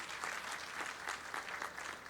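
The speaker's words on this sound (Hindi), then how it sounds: "उनका भी ताली बजा के स्वागत करें" Audience applause at a public event with the Madhya Pradesh chief minister, steady clapping from a crowd filling the whole moment at moderate level with no talk over it.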